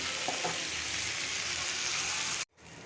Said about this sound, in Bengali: রোজগুলি ভাজবো তাওয়াতে